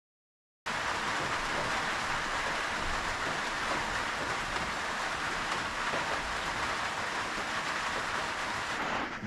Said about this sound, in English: For our luck, it's raining.